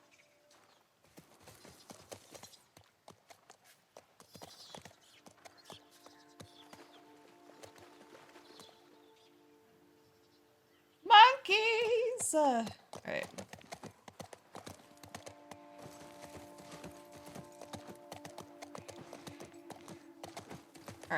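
A horse in The Last of Us Part I gallops in a run of quick hoofbeats, fading in and out, before a loud burst of the player's game sounds and then a steadier clip-clop under occasional talk.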